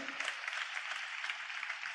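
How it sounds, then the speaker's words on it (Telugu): A church congregation claps together during a sermon, a faint but continuous patter of many hands that holds steady throughout. "చప్పట్లు కొడుతూ స్తోత్రాలు చెప్దాం"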